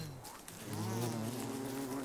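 Bees buzz around hives in a video game, a close, continuous droning hum that swells after a brief start and holds steady, with no voices.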